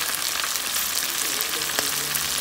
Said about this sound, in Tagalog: Lulutuin yung chicken.